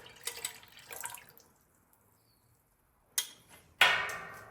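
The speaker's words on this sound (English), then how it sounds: "I'm going to pour it into the juice." Yeast slurry poured from a small container into a vessel of grape juice, with brief splashing trickles and drips, a pause of near silence, then a louder, sharper pour close by.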